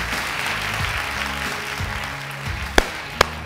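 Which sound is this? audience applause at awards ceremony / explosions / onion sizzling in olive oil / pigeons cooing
audience applause at awards ceremony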